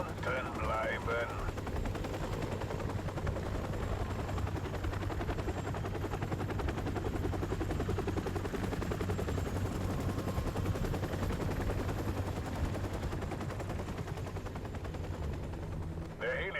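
Rapid machine gun fire in Call of Duty Modern Warfare Remastered, sustained bursts of gunfire over a constant helicopter rotor drone, with brief talk near the start.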